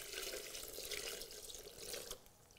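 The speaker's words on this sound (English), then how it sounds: "with our liquid, just pour on top." Liquid poured from a container over softened chilies in a blender jar for chili colorado, a steady splashing, gurgling stream close by that thins out near the end, with no talking.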